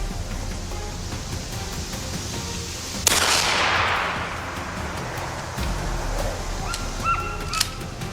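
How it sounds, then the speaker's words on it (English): A single loud gunshot cracks out near a farm at a wild boar, followed by a long rolling echo that fades over several seconds against steady outdoor background noise. Faint bird calls come through afterward. "The second shot rang out."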